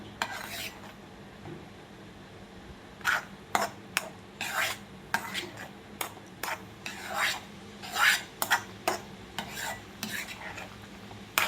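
Mango and semolina mixture being stirred in a pan over medium heat, a utensil scraping and rasping against the metal in irregular strokes, close and fairly quiet, with no voices.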